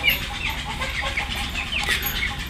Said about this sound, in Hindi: मुर्गियाँ जो है ना जी बहुत अच्छी होती है, अंडे वगैरह देती हैं